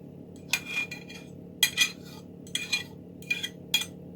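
A utensil scrapes bacon, cheese and onion quiche filling out of a pan in a home kitchen, five short bright metallic scrapes and clinks spaced about a second apart, close and clear over a faint low hum.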